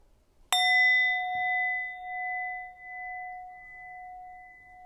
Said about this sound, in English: And I use this bell